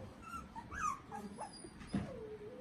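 A young puppy whines in short, high-pitched cries close to the listener, with a soft low growl mixed in and a brief louder yelp near the end.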